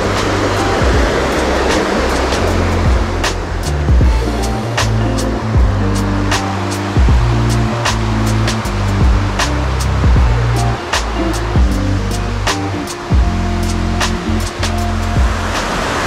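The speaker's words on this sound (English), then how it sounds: "Incredible deserted waterfalls like this." A waterfall on Biliran Island in the Philippines pours in a steady, close, loud roar of rushing water that holds without a break, with scattered sharp crackles and splashes on top.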